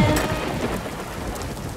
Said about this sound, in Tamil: மழை துளி பெய்யுது தட தட தட